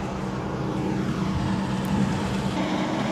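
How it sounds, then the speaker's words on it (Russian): A line of cars creeps slowly along a road behind a tractor, stuck by a no-passing line, giving a steady low engine drone that holds evenly throughout with no voices. "Вот такие вот у нас машины едут и едут за ним."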